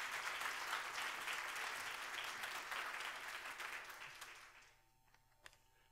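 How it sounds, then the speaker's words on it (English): A church congregation at a Palm Sunday service gives a round of applause, a dense burst of clapping that holds for several seconds, then fades out, leaving a few stray claps in a quiet room. "y'all join with me in giving her a round of applause"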